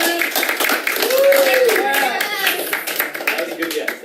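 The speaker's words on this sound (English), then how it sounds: "Let's give her a clap for this big yes." A group audience claps together in a short burst of applause, with voices talking and a brief vocal exclamation over the clapping.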